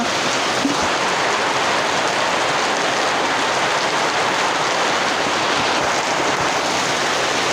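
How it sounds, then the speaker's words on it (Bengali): Heavy rain pours down steadily in a dense, continuous broadband hiss, loud and unbroken throughout with no voices. "প্রচণ্ড বৃষ্টি হইতেছে"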